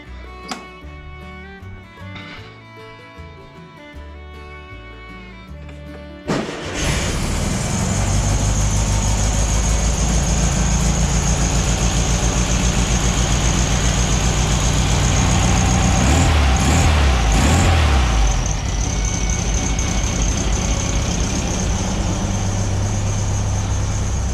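A 1968 VW Beetle engine fitted with a new carburetor cranks briefly on a cold day, catches and settles into a steady, loud, close idle that runs on with small surges.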